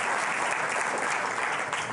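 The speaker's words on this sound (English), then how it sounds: "getting a round of applause in here in Jupiter" A round of applause fills the ESA mission control room during a Jupiter mission launch update, steady dense clapping from a group sustained throughout with no pauses.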